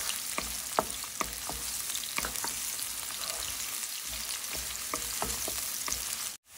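Onions sizzle steadily in hot oil in a pan, with repeated scraping clicks of a spoon stirring throughout, up close and alone until a sudden cutoff at the end.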